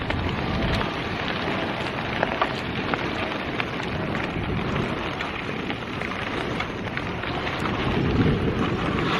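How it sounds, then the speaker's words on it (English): Light drizzle falls during a trike ride through Northamptonshire countryside, a continuous soft hiss of raindrops spattering on surfaces, steady and moderately loud with no voices. "Oh, it's trying to drizzle again."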